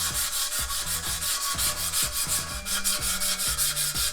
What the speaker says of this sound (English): 80 grit emery cloth.